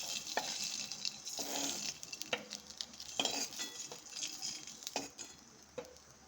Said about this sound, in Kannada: ಸ್ವಲ್ಪ ಮೊಟ್ಟೆ ಫ್ರೈ ಮಾಡ್ಕೊಳ್ಳೋಣ